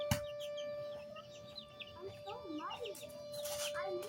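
Chickens on a chicken farm clucking and crooning in quick rising bursts, fairly close, with a steady high electrical hum beneath and a person talking at times.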